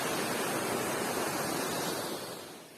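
Bhimdhar waterfall in Odisha roars as a dense, loud, steady rush of falling water close by, broadband and unbroken, easing slightly at the very end.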